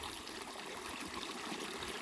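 Water flows steadily in a Carolina creek, a continuous close rushing and trickling wash with no pauses.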